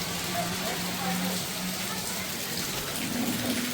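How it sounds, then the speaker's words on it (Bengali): Heavy rain pours on a street in Vrindavan, a dense steady wash of falling water with no breaks, while a person talks over it. "দেখুন কি বৃষ্টি"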